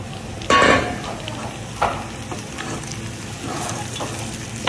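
Bacon and calabresa sausage frying in a pan, with a steady close sizzle, a loud burst as more food is tossed in and a couple of softer stirring scrapes.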